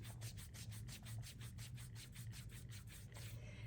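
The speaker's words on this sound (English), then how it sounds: "I'm going to season it by rubbing it on my skin" A new clear acrylic stamp rubbed back and forth across skin for seasoning makes a steady run of soft, close swishing strokes in quick rhythm, with no talking.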